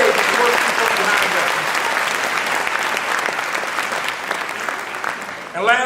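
Parents and guests at a high school graduation ceremony give a loud, dense round of applause that holds steady and slowly thins out, ending with a speaker's voice at the close.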